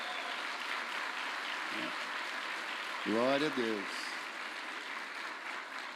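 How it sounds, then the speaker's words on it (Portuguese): Steady applause from a church congregation honoring volunteers, a continuous hiss of clapping throughout while someone speaks briefly over it. "Vamos dar um aplauso pela vida dessa gente?"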